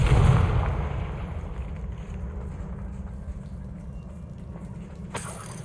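Bombarda and Confringo spell blasts in Hogwarts Legacy: a loud, deep explosive boom at the start that rumbles and decays for several seconds, then a short sharp crack near the end.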